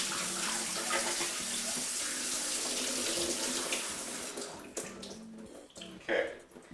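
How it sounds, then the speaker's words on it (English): Water is poured out of a film developing tank, a steady close splashing stream that fades into a few gurgles and drips. "get all the water out"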